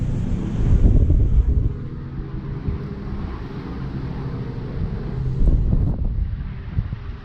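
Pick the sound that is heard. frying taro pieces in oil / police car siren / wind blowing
wind blowing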